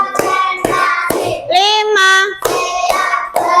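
Children in a classroom play a clapping game, with crisp hand claps landing in counted bursts between loud group chanting, including a drawn-out sung call in the middle.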